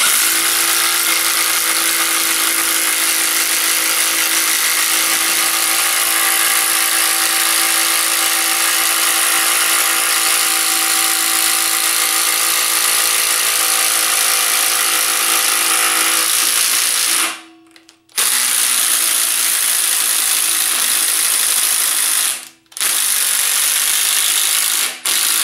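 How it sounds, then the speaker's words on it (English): A Milwaukee M18 FUEL 2653-22 impact driver drills holes into a computer case, its loud continuous high whine holding for a long run, then cutting out briefly twice. "I just drilled 2 holes into the side of this computer case"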